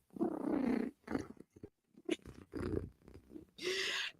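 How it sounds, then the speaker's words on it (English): A cat purring in bursts, a rough low rattling purr that starts and stops several times, fairly close and alone without talk. "Because if cat is purring, cat is a happy, happy girl."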